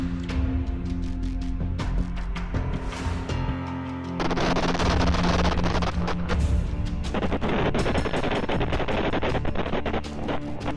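Gunfire from fighting between Hamas fighters and the Israeli army in Gaza, dense bursts of automatic fire and sharp cracks crowding one another, loud and continuous, with heavier booming stretches mixed in.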